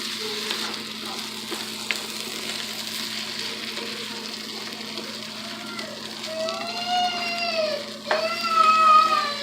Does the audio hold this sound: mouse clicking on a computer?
no